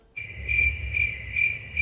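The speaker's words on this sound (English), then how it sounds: "Just straight crickets." Crickets chirp as a sound effect in a steady, pulsing loop of bright, even trills over a low background hum, with no talk.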